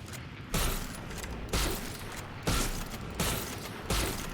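A scoped Marshal sniper rifle from the game Valorant fires five evenly spaced sharp shots, each a loud broadband crack with a short tail and a mechanical bolt cycling between them.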